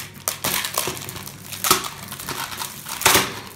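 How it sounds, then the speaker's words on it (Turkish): Plastic candy bags torn open and crinkled, giving a run of crisp rustling and crackling bursts with several sharper loud crunches, close by and with no talking. "Şimdi bu poşetlerini bir açın bakalım dışındaki."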